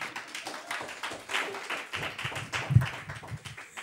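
Scattered, moderately close applause from a small audience at a literary evening, uneven clapping that swells and thins over a few seconds.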